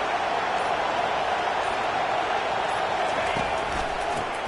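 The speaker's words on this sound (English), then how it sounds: "It's early, but this crowd is fired up. Listen to this noise here." Stadium crowd noise from the NCAA 25 college football video game, a constant, loud, dense roar of many voices holding steady across the whole stretch without breaks or distinct cheers.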